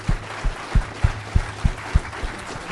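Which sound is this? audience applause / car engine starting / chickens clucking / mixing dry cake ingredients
audience applause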